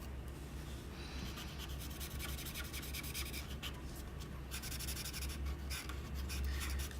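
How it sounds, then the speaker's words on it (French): A cool gray 2 marker colors in a drawing in quick, scratchy strokes. The felt tip rubs against paper in a faint, steady rhythm with no talking. "j'utilise du gris froid 2 pour colorier cette structure ici"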